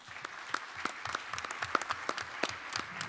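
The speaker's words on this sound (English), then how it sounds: "I'd like to give a round of applause to John." Audience applause at a pioneers panel honouring a former OCBC president, made of sparse, distinct hand claps that patter steadily and moderately close for a few seconds without any talk.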